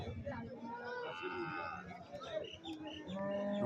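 A cow at a busy cattle market lows in drawn-out calls amid crowd chatter and voices nearby.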